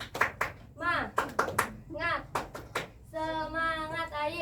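Children in a classroom ice-breaker clap the Tepuk semangat rhythm: bursts of sharp, close hand claps in a patterned beat alternate with chanted group voices, ending on a long, sustained shouted call.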